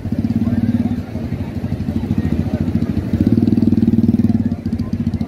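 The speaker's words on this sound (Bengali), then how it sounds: "এগুলো হলো সি বিচের বালির উপরে চলার জন্য রেসিং গাড়ি।" Racing bikes for riding on the sand of Cox's Bazar sea beach, Sugandha, with loud, steady engine idling and revving close by, a rough pulsing mechanical drone that swells midway with chatter of voices mixed in.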